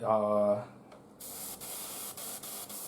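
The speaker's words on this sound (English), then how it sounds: "the upper 2/3 of the area where you spray the copper" Copper paint is sprayed onto an Imperial Knight model for a burnt metal effect, making bright, steady hissing bursts with brief breaks, after a short stretch of talking at the start.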